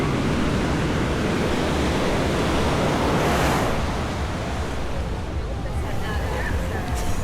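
Continuous roar of ocean surf at Ipanema Beach, Rio de Janeiro, during street carnival, broad and steady with wind noise and a faint murmur of distant people.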